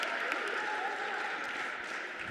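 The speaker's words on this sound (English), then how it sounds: "getting some nice applause for Litsky" Moderate crowd at a men's college basketball game, OKWU versus Avila, applauding in a steady wash of clapping that holds evenly throughout at a middling distance.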